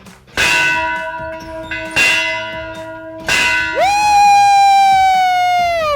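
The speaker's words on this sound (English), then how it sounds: "Ring that bell!" A large bell strikes three times at a steady pace, each ring sustaining and overlapping, followed by a rising tonal swell, loud and resonant, opening a university athletics broadcast.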